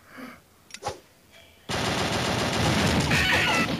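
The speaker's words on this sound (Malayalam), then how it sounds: "ഇത് നമ്മൾ ഇങ്ങോട്ടേക്ക് വെടിവെക്കണ" Rapid, continuous gunfire from the mobile shooter game Mini Militia (Doodle Army), starting abruptly after a few brief game sounds and holding loud and steady to the end.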